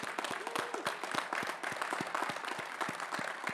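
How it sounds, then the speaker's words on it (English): A commencement audience applauds steadily, a dense patter of many hands that is moderately loud and even throughout. "The applause is for you now."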